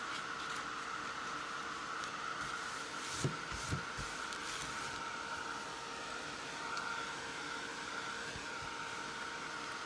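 A heat tool blows on a journal page with a faint, steady whirring rush of air that continues evenly throughout, marked by a couple of soft knocks near the middle.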